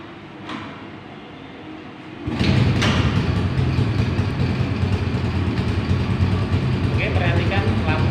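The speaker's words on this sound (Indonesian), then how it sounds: "Kita nyalakan sepeda motornya." After a quiet moment a motorcycle engine starts with a sudden surge at close range, then idles steadily and loudly, with a voice talking faintly over it near the end.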